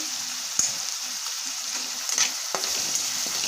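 Egg biryani masala frying in a pan as a pinch of turmeric is stirred in, giving a steady close sizzle with a few brief scraping clicks of the spoon, no voices.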